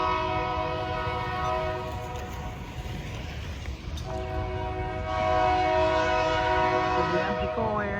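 A Hamilton Northwestern Railroad train passing close by while heading northbound, the loud rumble of the cars carrying on under a long, sustained, multi-tone horn blast that fades briefly and then sounds again strongly.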